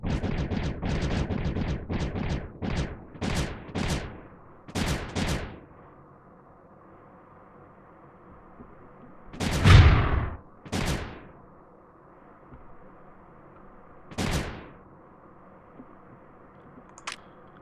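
Blaster cannons fire in the strategy video game Creeper World 3, a quick volley of sharp shots followed by scattered single booming blasts and separate bursts over a quiet hum.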